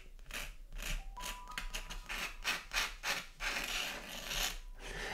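A quill pen scratches across paper while drawing an illustration, giving soft, close, irregular rasping strokes with brief pauses between them.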